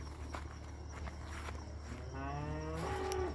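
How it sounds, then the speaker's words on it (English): A cow in a home village compound lets out a long, drawn-out moo over the final second or so, fairly near, against a steady outdoor hum with insects and a few faint footsteps. "We have the cow making some mooing sound there, wondering what is happening."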